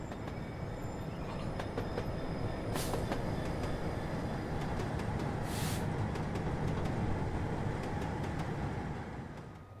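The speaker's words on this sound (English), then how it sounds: "A DRS 66 works north with an intermodal duty from Daventry to Coatbridge." A DRS Class 66 diesel locomotive hauls an intermodal freight train, a steady rumbling roar of engine and rolling wagons heard at moderate distance throughout, with occasional faint wheel noise and no voices.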